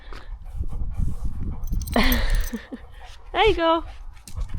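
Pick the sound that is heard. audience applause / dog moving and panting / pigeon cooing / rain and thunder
dog moving and panting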